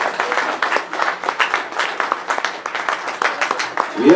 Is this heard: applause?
yes